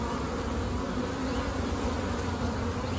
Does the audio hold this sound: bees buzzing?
yes